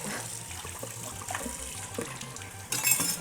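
Tap water runs steadily into a glass or sink in a home kitchen while soy sauce cookies are being made, a continuous close splash with a brighter, louder gush near the end and no talking.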